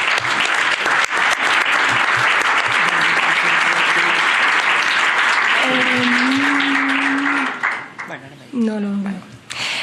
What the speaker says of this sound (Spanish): un aplauso para todas y todos vosotros.